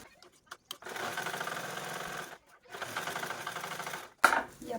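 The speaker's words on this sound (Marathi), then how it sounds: "मी इथे झिपवरती पुन्हा ह्या डबल डबल टीप देऊन घेते" A sewing machine runs in two steady bursts of rapid stitching with a short pause between, double-stitching over a bag's zipper, ending in a brief sharp clunk.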